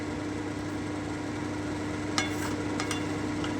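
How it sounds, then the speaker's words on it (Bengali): Mutton and potatoes are stirred in stock in a cooking pot over a steady background hum, with a few brief scrapes of the spoon near the end. "আমি একটু নেড়ে দিচ্ছি খুব ভালো করে।"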